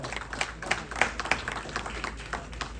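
An audience at a Chicago Urdu poetry recital claps in a light, scattered round of applause, with individual claps standing out close by against a quieter background and no voices.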